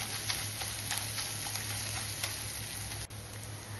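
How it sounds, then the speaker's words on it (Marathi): Leftover masala sizzling and being stirred in a pan as gravy for stuffed capsicum, a steady soft frying hiss with faint spatula scrapes, close and even throughout. "छान असं मिक्स करायचं, थोडं परतून घ्यायचं।"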